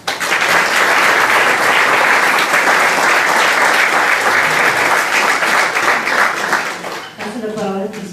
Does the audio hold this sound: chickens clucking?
no